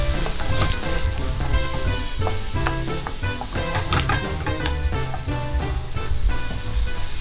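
Guanciale fries in a pan with a steady, bright sizzle and crackle that runs throughout at moderate loudness, mixed with background music.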